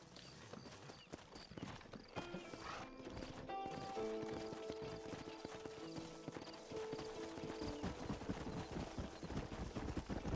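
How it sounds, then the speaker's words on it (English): Horse hooves clip-clopping in a Western video game, a steady trotting rhythm under faint background game music and ambience, quiet overall. "Horses are over here."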